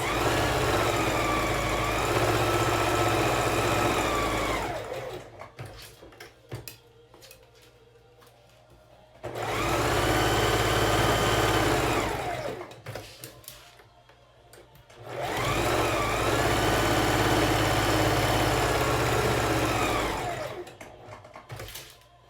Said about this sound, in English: we're gonna put a 1/4 inch stitch all the way around, seam allowance, to hold it all in place